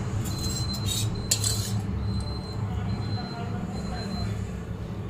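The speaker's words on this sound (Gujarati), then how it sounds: "આટલું મિક્સ થઈ ગયું છે હવે ફરી પાછા મિક્સ કરી દઈએ" Adadiya sweet ingredients being stirred in a pot, with steady scraping and occasional clinks of a utensil against the metal under a constant low kitchen hum, with faint talk in the background.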